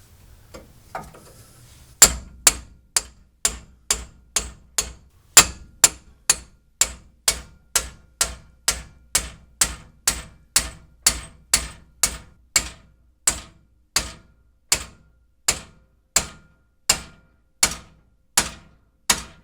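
Metal hammer strikes on a car's lower ball joint and castle nut during a second-generation F-body front-end rebuild, about thirty sharp, loud, ringing blows in a steady rhythm, close, with no talk.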